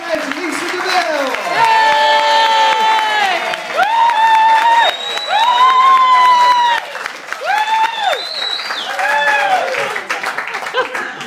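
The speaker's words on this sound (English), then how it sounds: "Let's have some cheering." A comedy show audience applauds and cheers loudly as a performer is welcomed to the stage, with whoops and shouts rising over continuous clapping for about eleven seconds.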